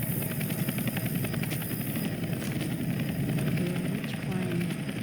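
In the Left 4 Dead video game, a helicopter's rotor chop and engine roar fill the scene as a loud, continuous, throbbing drone amid game noise.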